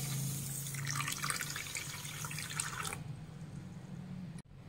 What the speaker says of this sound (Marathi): आता यामध्ये पाणी घालूयात